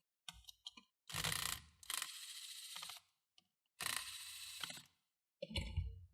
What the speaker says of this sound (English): So you just have to loosen these two screws.